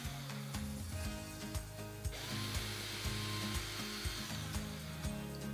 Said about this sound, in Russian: берем шуруповерт, тонкое сверло под размер саморезов и сверлим неглубокие отверстия по намеченным